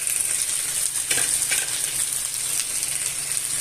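Caldereta ingredients with tomato paste, calamansi and pepper sauté in a pan, giving a close, constant bright sizzle with occasional louder hisses as the mixture is stirred.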